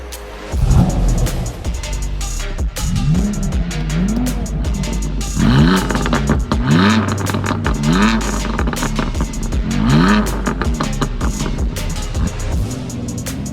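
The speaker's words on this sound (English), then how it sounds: "We're driving the BMW M2 Competition" A 2019 BMW M2 Competition accelerating on the road, its engine rising in pitch through repeated gear pulls with steady road and cabin noise throughout.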